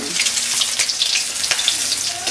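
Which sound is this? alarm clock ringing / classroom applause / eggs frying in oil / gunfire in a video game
eggs frying in oil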